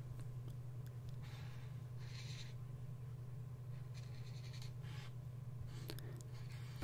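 Pencil scratching across paper while a human figure is drawn, soft intermittent strokes in short bursts over a steady low hum, close and quiet.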